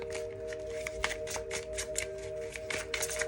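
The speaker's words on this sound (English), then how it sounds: "Let me shuffle those real quick." A deck of tarot cards shuffled by hand, a close, quiet run of rapid riffling flutters and soft taps over a faint steady hum.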